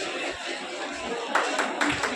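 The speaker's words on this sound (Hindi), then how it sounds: "रखें जोरदार ताली" A crowd at a Teachers' Day program at Vivekanand Bihari Lal Inter College claps loudly, a continuous rush of applause with sharper bursts, under a voice over a loudspeaker.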